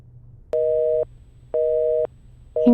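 A telephone engaged tone sounds in clean, evenly spaced beeps, each about half a second long with equal silences between, clear and close on the line.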